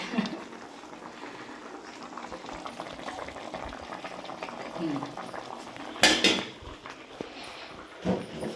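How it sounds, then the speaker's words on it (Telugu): Fish curry simmers in a pot in a home kitchen, a steady low bubbling with scattered clinks of utensils and a few sharper metallic knocks near the end, while someone speaks over it. "చూడండి తొక్క తొక్క తొక్క తొక్కమని ఉడుకుతుంది"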